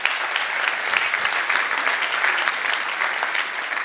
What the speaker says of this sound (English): That needs a little round of applause.